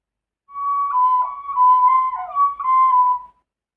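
A tin whistle plays a short, bright melody of clear sustained notes with a few quick ornaments, lasting under three seconds, solo and close with silence around it.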